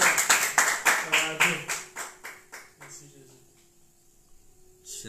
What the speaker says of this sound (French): Nous applaudissons le Seigneur bien.